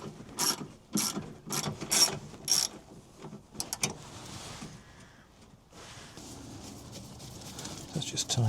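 A ratchet spanner clicks on 8mm nuts while working on a Land Rover Defender Wolf 300 Tdi engine during an oil and filter service, with bursts of rapid close clicking, pauses and some handling noise, and someone talking in between.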